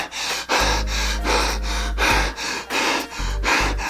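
A man imitates the heavy, rhythmic mechanical breathing from Star Wars trailers, a steady run of loud, close inhales and exhales with a deep resonant rasp.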